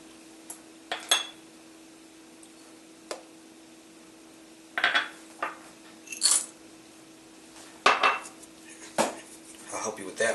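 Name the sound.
chocolate, brown sugar and coffee dumped into a bowl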